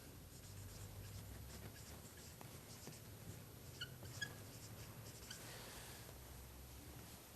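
A marker or chalk scrapes steadily across a board, squeaking and scratching in continuous strokes, faint and close with no talk over it.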